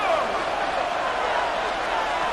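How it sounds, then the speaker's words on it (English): Broad, steady roar of the Buffalo Bills stadium crowd in Madden NFL 26, continuous and dense with no distinct voices standing out, holding level throughout. "The Buffalo crowd being heard before third down."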